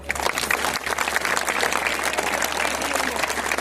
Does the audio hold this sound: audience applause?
yes